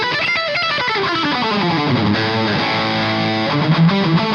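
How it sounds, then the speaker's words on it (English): A Boss Katana amp set to a high-gain, mid-scooped lead tone carries a distorted electric guitar line, sustained notes sliding and bending, with a brief descending run near the end, steady and close with no voices. "I've created a more high gain lead tone for those of you that want something that's a bit more high gain and a bit more mid scooped."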